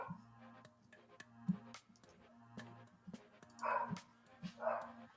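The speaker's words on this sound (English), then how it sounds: "Murphy, if you're going to come out into my office to bark" A dog barks and yips inside a home office, giving several short, sharp calls with whimpering between them, fairly faint over a steady background hum.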